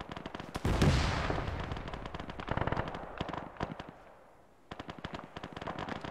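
Gunfire in the Arma 3 video game: bursts of automatic and single shots crackling at a distance, with rapid rattling volleys and a heavier blast early on, fairly quiet overall.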